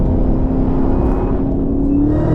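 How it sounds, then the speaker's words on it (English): A supercharged LT4 V8 in a Chevrolet Camaro ZL1 1LE pulls steadily under acceleration, a loud, continuous low engine drone with a faint supercharger whine heard from inside the cabin. "You get all the supercharger noises, you get the American muscle sound, bro."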